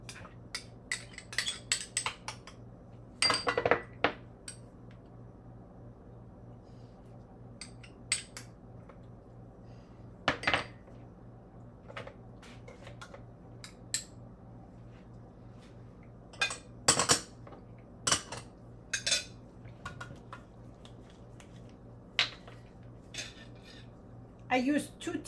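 Salmon roll ingredients are stirred together in a bowl, with a utensil clinking and scraping against the dish in scattered, uneven bursts over a quiet room background. Some louder knocks stand out among the softer taps.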